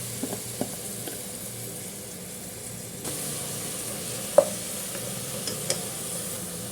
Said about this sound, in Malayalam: കുറച്ച് വെളിച്ചെണ്ണ ഒഴിച്ച് കൊടുത്തിട്ടുണ്ട് സവാള ക്രഷ് ചെയ്തതും ഇഞ്ചിയും വെളുത്തുള്ളിയൊക്കെ ഇട്ട് കൊടുക്കാം